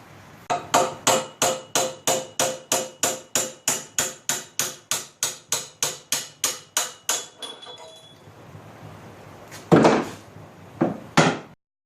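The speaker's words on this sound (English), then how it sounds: "I should be able to hammer it out" A steel bushing on the front end of a 1955 Wheel Horse Senior garden tractor being hammered out with bar stock: about two dozen sharp, evenly spaced metallic blows, close and loud, then a pause and two or three heavier clanks.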